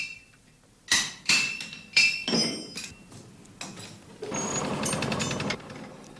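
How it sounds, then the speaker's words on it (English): Blacksmith hammering hot metal on an anvil at a forge while punching pritchel holes: a handful of sharp, ringing metallic strikes at uneven intervals, close and loud, then a longer rasping, hissing stretch toward the end. "There's the punching for the pritchel to go in later to make the holes."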